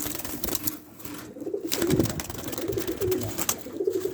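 Doves coo softly near a nest being built, a low repeated call rising several times against faint background noise, with no talk.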